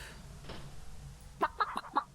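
A rooster from the King's Quest III remake game gives a few short clucks near the end, quiet game background sounds beneath and no talk.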